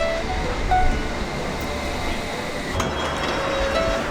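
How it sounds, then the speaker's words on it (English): Steady rumble and rattle of a moving London Underground train heading to Barbican, loud and close, with faint metallic squeals and clinks riding over the constant roar. "We're taking the train to Barbican."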